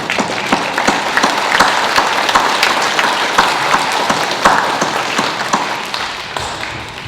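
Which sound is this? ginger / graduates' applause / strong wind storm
graduates' applause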